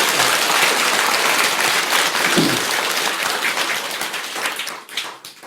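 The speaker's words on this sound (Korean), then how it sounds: "큰 박수 부탁드립니다." A crowd of temple worshippers at Bomunsa applauds loudly with dense clapping that tapers off toward the end, during a Buddhist dragon king ritual.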